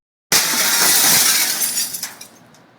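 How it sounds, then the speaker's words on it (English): Old window panes smashed with a hatchet: a single loud crash of shattering glass bursts in after a short silence, then fragments tinkle and settle over about two seconds. "Next, we took a hatchet to some old window panes."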